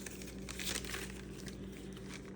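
A paper page in a travel journal is folded back down, giving a brief close crinkle and rustle that peaks early and then fades to a soft scuff over a low background hum.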